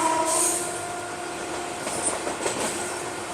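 A local train runs alongside a Howrah–NJP Shatabdi Express, heard from inside a Vistadome coach as a steady loud rail roar with wheel squeals and faint clatter.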